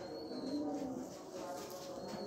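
A pet pigeon held up for show coos quietly, low repeated throaty notes over a soft steady background hum.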